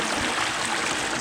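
Cold stream water close by, used for washing a face: a steady, dense rush of splashing and flowing water with no voices.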